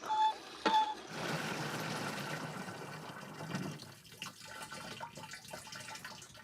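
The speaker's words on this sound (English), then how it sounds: "So I'm gonna put this water on full blast." A cabin's water tap opened wide on a well pump, a strong steady rush of water filling big jugs after a couple of short beeps, the flow roughening and thinning toward the end, no talking.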